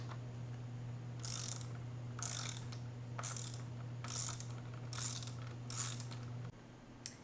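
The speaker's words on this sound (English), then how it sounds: "the next step is to remove the top airbox bolts" Repeated bursts of ratcheting from a socket wrench loosening the top airbox bolts on a Honda Grom motorcycle, about seven quick clicking runs spaced roughly a second apart over a steady low hum, close and clear.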